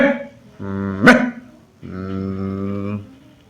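A boy imitates a dog, giving two loud, drawn-out bark-like yowls close to the microphone, with a sharp click between them.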